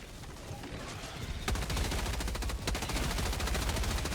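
Rapid automatic gunfire from a Gatling sentry turret in Helldivers 2, firing into a bug breach; a dense, loud, continuous rattle of shots that grows heavier partway through, with no talking.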